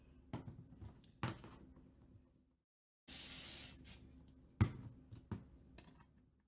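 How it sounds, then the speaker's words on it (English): CA glue activator sprayed onto a blaster prop in two short, loud hissing bursts, with lighter handling clicks and taps before and after. "this activator for the CA glue doesn't leave a residue"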